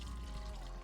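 Water pours steadily into a plastic IK pump sprayer, a faint, close, continuous trickling gush lasting under a second with no talking.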